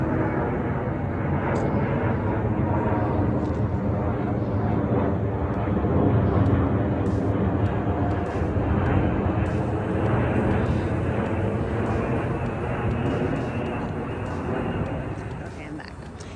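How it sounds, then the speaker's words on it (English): A fixed-wing airplane passes overhead above a home garden, a broad steady engine roar that swells slightly in the middle and fades a little toward the end, with birds chirping faintly. "Oh, another plane."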